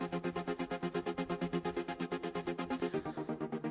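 Three layered synth leads in a trance breakdown play the same chords as one rapid sequenced pattern, loud and evenly pulsing in a tight steady rhythm with no voices.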